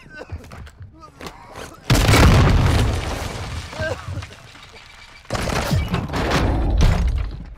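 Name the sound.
grenade explosion in Warzone video game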